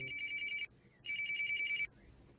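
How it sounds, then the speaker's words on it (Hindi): A telephone rings close by and loud, giving two bursts of a warbling electronic trill separated by a short pause. "भाई देखो सिप्पी का फोन आया है।"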